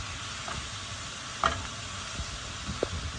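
Onions caramelizing in a pan give a steady, soft sizzle with a few faint scrapes of stirring, close and even, with no voices.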